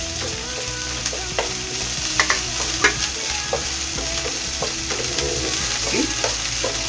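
Chopped onions sauté in a hot pan for pancit bato, a steady close sizzle with occasional clinks and scrapes of a utensil stirring, no voices.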